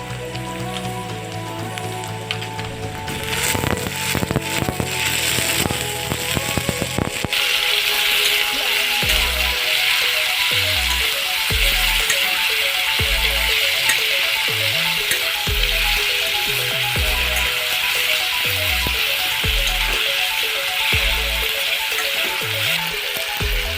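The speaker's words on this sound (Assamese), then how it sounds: "সেইখিনি অলপ ফ্ৰাই কৰি ল'ম। পিঁয়াজ ভাজা হৈ গ'ল।" Onions frying in a pan for a common carp fish curry give off a steady, dense sizzle that continues throughout, with faint rhythmic background sounds and no talking.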